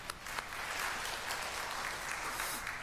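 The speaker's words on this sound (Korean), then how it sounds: "우리 하나님께 영광의 박수 올리겠습니다." Church congregation at a presbytery lay members' spiritual retreat applauding in praise to God, a dense, steady burst of many hands clapping together, loud and close, with no voices over it.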